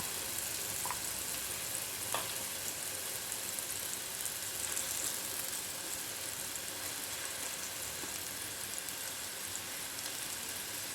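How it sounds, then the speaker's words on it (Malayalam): Paneer cubes fry in oil over a medium flame, giving a faint, even, continuous sizzle with a couple of soft pops and no talking. "പനീർ ഒരു ഗോൾഡൻ ബ്രൗൺ നിറമായി നമുക്ക് ഫ്രൈ ചെയ്തെടുക്കാം"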